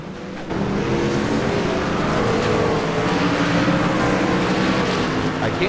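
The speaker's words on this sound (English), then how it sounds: "I actually can't turn the engine sounds down, Nick." A loud, continuous race car engine roar starts abruptly and holds a steady high-revving drone from a PC racing game.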